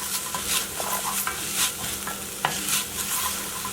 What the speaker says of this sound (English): So I'm just kind of sweating these onions right now.